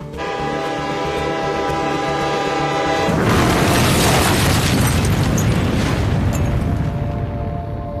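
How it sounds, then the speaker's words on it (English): A massive train explosion in a remote northern North Korean town: a sustained train horn blares first, then a huge roaring blast erupts and rumbles on loudly, slowly fading over several seconds. "there was a massive train explosion in northern North Korea"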